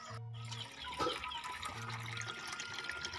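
Clear water flowing in a village, a faint continuous trickle and splash heard close over low background hum, with no speech.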